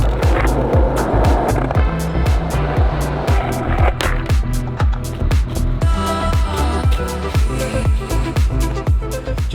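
A skateboard rolls over city streets with rhythmic clacks as the wheels cross pavement joints, loud and close, against a low rolling rumble and no talking.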